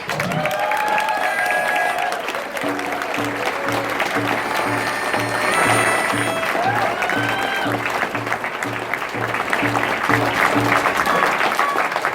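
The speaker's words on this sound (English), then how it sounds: "please give them a round of applause" Applause from a convention crowd at a closing ceremony, sustained and dense across the whole stretch, with a steady low rhythmic tone running beneath it and some voices mixed in.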